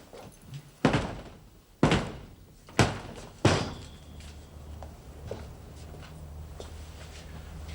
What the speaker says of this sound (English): Kick the door in, will you?